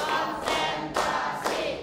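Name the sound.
rhythmic hand clapping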